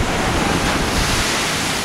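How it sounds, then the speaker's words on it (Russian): Sea waves crash against the Alanya seafront promenade at Tosmur, a loud, continuous roar of surf with wind buffeting the microphone and no voices. "Еще чуть-чуть и волны долетали сюда."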